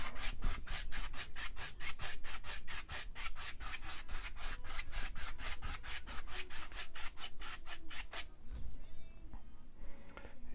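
A paintbrush scrubs paint across canvas in fast crisscross strokes while blending a sky, making a steady, rhythmic rasping at close range for about eight seconds before it stops, leaving faint handling noises.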